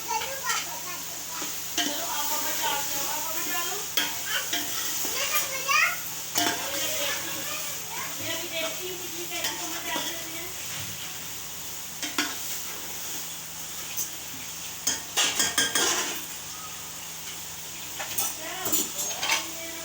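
Capsicum frying in a pan for egg ghotala, stirred now and then, a soft continuous sizzle with intermittent spatula scrapes; background voices and household noise drift in at moderate level.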